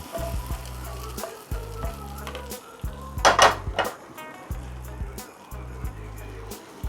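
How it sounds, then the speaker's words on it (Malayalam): Mustard seeds crackle and sizzle in hot oil in a pan for a tempering for a pumpkin and bean erissery curry. A burst of spattering is heard near the middle, among clinks of utensils and a steady low hum. "കടുക് വറുത്ത് വയ്ക്കാം."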